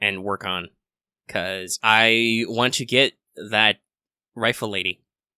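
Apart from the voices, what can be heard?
No everyday noises stand out.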